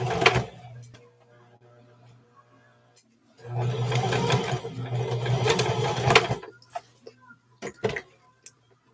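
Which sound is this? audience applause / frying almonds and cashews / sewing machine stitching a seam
sewing machine stitching a seam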